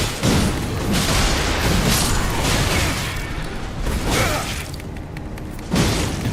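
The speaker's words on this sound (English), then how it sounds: "I do like explosions." Dense, continuous rumbling blasts and crashes fill the clip, with bursts of booming impacts layered over a roaring, chaotic Elden Ring boss fight against Promised Consort Radahn.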